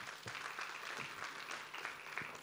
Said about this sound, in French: Et à vous, applaudissements, c'est parti.